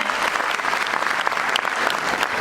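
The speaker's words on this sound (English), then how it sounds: "थोड़े से louder claps हो सकते हैं parents, please." Parents at a school class presentation clap steadily, a dense, continuous round of applause filling the room with no talk over it.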